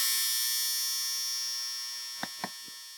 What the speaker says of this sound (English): That's washing machine noise.